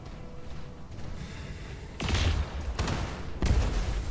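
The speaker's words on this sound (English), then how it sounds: "Machine gun to the back." Machine gun fire in the Battletech video game, bursts of dull thuds and rattling impacts in separate clusters, fairly loud over a low rumbling background.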